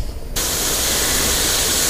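An airbrush sprays paint onto a fishing lure, bursting into a loud, steady hiss that starts suddenly and continues without a break.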